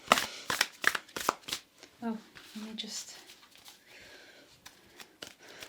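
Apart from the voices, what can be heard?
shuffling a deck of tarot cards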